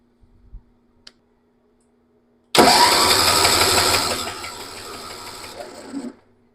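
A Massey Ferguson 7 tractor, bought sight unseen at auction and in rough shape, cranks loudly close by in one long steady churning run of about four seconds that tapers off as it fails to fire.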